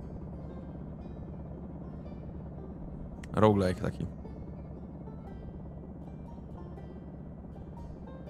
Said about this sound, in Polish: Musimy poczekać, aż ten śmigłowiec poleci.